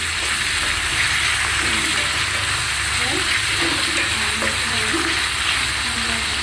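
Chopped tomatoes and curry leaves frying in a pan for masala capsicum curry, a loud steady sizzle up close with occasional stirring scrapes and bubbling throughout.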